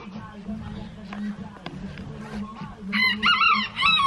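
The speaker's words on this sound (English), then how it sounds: "Cock-a-doodle-doo." Rooster crowing at a farm near a campground, a loud close cock-a-doodle-doo near the end over a background hum and scattered clucking sounds; a person's voice is also present.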